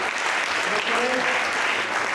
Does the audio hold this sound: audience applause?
yes